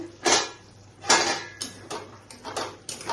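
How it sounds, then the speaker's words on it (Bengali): A metal lid lifted off a cooking pot of paneer curry with capsicum, giving a few close metallic clanks and clatters, one loud knock at the start and another a second later, then lighter taps. "তাহলে আমার ঢাকনাটা তুলে নিচ্ছি"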